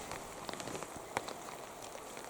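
Rain falls steadily among the hoodoos of Bryce Canyon National Park, a soft continuous patter of drops on surfaces with a few sharper close taps, fairly quiet and with no talk.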